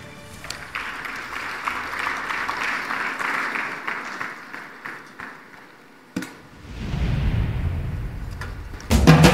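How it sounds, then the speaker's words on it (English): Conference attendees at an energy summit in Tanzania applaud for about six seconds, a moderate crowd clap that fades out, then a low rumbling hum rises, ending with a sudden loud burst. "A round of applause."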